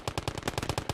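Rapid machine gun burst in a video game, about ten close, evenly spaced loud shots packed into one second.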